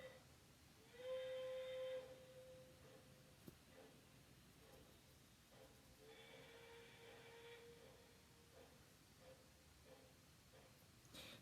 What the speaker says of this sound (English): That was my train clock whistle going off.